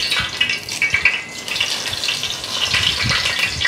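Fenugreek seeds and curry leaves frying in about 250 grams of hot sesame oil for an Onam nellikka perattu pickle, giving a steady close sizzle and crackle with brief spattering bursts, no voices.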